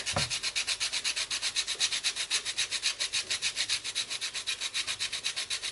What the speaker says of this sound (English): And I'm grating maybe a teaspoon of nutmeg.